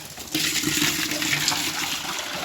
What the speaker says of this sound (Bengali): আমি এইভাবে ফ্রেশ জল খাই গরুরে।